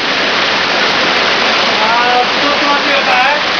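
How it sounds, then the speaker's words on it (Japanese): A powerful waterfall inside a dark cave, a loud, close, continuous roar of crashing water with a faint whistle-like tone near the end. "暗闇に激しい滝が"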